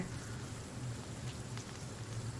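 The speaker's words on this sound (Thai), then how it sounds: "ฝนตกด้วย" Steady rain falling at night outside a hotel, a continuous dense hiss of drops at low volume with no voices.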